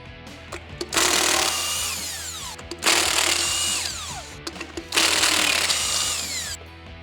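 A power tool removes a wheel from a 1987–1995 Jeep Wrangler YJ, sounding as three loud, whirring bursts of one to two seconds each, separated by short pauses.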